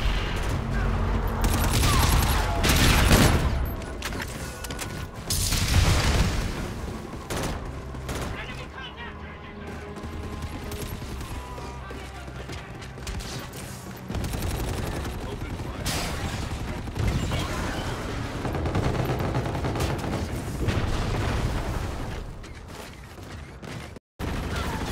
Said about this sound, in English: Enemy Trinity rocket in use.